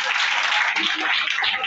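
An audience claps and cheers at a lively gathering, a dense, loud wash of applause throughout the short burst, with voices mixed in.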